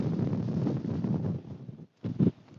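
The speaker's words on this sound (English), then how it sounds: "Anytime you go near that edge, the wind is unbelievably savage." Strong wind gusting across the microphone at the edge of Red Screes in the Lake District, loud buffeting roar that drops out briefly near the end before another sharp gust hits.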